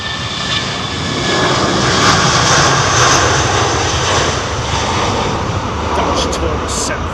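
Silkway Boeing 747 taxiing at London Heathrow, a loud, steady jet engine rumble and whine that rises slightly and holds, with faint voices in the background.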